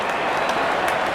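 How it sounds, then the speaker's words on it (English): Crowd applause at a Pakistan vs Sri Lanka T20 international cricket match, a dense, steady wash of clapping from a large stadium crowd that fills the whole moment without letup. "good innings, and gets a grand applause"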